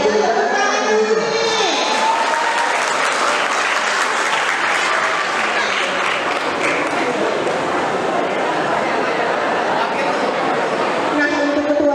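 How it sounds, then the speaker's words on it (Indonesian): High school students in a Palembang school hall burst into loud applause and cheering, a dense crowd roar of clapping and shouts that continues throughout, with a voice over it at the start. "Tepuk tangan dulu nih."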